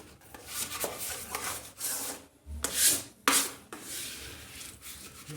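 Wallpaper being pressed onto the wall of a niche, a smoothing tool pushing the glue out toward the corners, giving close scraping rubs in repeated strokes with short pauses between them.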